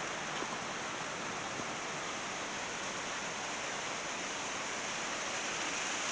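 Distant waterfall in a forest with aspen nearby, dropping in several tiers below a cliff, a faint, steady hiss of falling water with no other sound.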